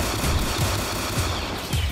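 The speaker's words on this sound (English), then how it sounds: "I don't know why I just shot at that big group of thugs" Gunfire in a Roblox New York hood roleplay game, with rapid repeated shots popping at an uneven rhythm over a dense, noisy backdrop, fairly close and steady in level throughout.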